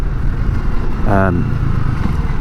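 A Honda CB250RS motorcycle engine, ridden on the road, gives a brief rising rev lasting a fraction of a second, heard close over a steady, loud rush of wind and road noise.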